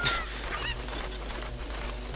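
A cuckoo chicken from the video game Zelda: Ocarina of Time clucks in short, close, honking calls, loudest at the start, over a steady game background hum.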